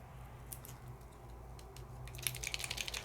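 Paint markers with small mixing balls inside are shaken, giving soft, fast rattling clicks that turn into brisker bursts toward the end, close and quiet, with no talking.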